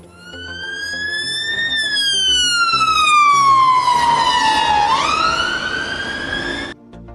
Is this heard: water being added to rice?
no